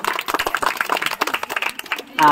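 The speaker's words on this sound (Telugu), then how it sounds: "Claps claps claps." A small crowd at a village kacha kaayalu game claps in quick, uneven bursts, fairly close and lively, with voices mixed in among the applause.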